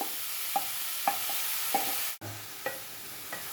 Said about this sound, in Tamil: இப்போ சொரக்காயை நம்ம வதக்கணும்.